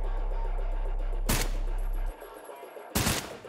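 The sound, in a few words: gunfire in video game Trepang 2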